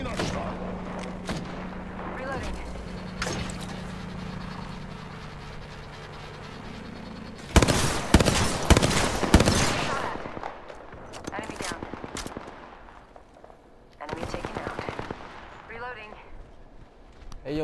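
Gunfire in the battle royale game Apex Legends: dense bursts of rapid automatic fire and sharp shots, loud and close in clusters, with game voice lines and talk throughout.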